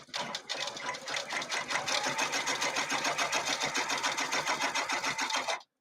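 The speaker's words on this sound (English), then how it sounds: "She would just stitch over it a couple times." Sewing machine stitching back over fabric, a steady rapid mechanical chatter that runs evenly for several seconds, close and fairly loud, then stops abruptly.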